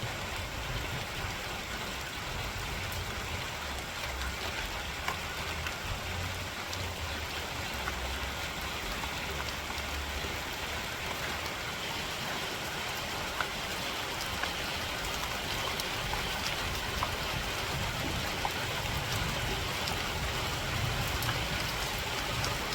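Steady rain falling outdoors, a soft, even wash of dense patter that continues unbroken throughout at moderate distance, with no talking.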